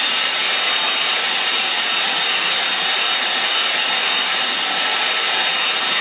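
Hair dryer blowing on a watercolour painting to dry it, a loud steady close whooshing hiss that holds without change throughout.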